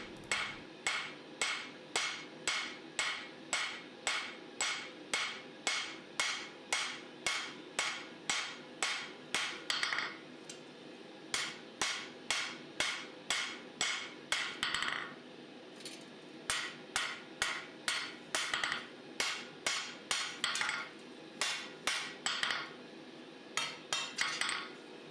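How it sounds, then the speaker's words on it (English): A hammer strikes a steel dagger blade during whack forging, landing in steady rhythmic runs of sharp metallic blows with brief pauses between bursts, close and clear, with no talk. "Here I'm doing a bit of whack forging, just trying to get it straight again"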